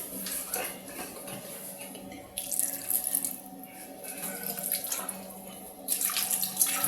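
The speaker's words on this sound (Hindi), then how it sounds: "अब मैं इसमें थोड़ा सा डालूंगा पानी" Water runs from a kitchen tap into a minced meat mixture, a steady splashing flow with brighter hissing bursts, fairly close in a home kitchen.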